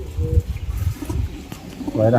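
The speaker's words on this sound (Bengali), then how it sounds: "সব B7 পায়রা" Punjabi B7 pigeons coo in low, rolling bursts, close and fairly loud, with people talking over them.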